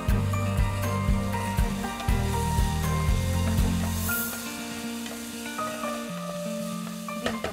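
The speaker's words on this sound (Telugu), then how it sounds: "చోలే గింజలు, చెన్నా కూడా ఫ్రై చేసేసుకుందాం మనం బాగా" Rajma, soy beans, black beans and chickpeas fry in a pan with a bright continuous sizzle and occasional stirring clatter, while music plays over it.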